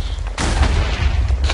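A house blows up in Minecraft, producing a burst of loud, rumbling blasts that keep booming over about a second and a half, with no talk.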